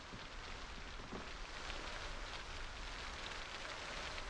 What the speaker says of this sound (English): There's one place here where the sound from the rain gets super loud, as if there's an open window somewhere